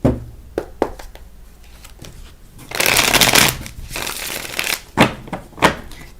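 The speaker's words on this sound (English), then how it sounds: "We're going to shuffle 3 times because that's my jam" Playing cards being shuffled in several bursts, with sharp riffling flurries and clicking snaps, close and fairly loud, no voices.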